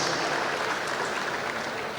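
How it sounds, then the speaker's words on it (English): Dense, steady round of applause from a large crowd at a presidential projects inauguration, greeting a royal guest, continuous and loud throughout. "please, round of applause"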